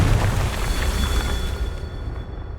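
A Confringo fire spell bursts in the Hogwarts Legacy video game, a loud low rumbling blast that rolls on and slowly fades with a thin tonal whine above it.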